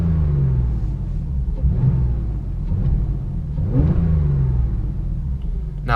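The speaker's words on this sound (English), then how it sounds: "So if you go ahead and rev this car, it really has a good sound." A 2017 Porsche Carrera S with a turbocharged engine revs in a low, rumbling blip, then a second rise and fall a couple of seconds later, heard close with a steady whir beneath.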